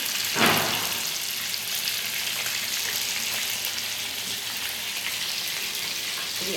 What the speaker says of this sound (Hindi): इनको हल्का हल्का अभी फ्राई होने दे रही हूँ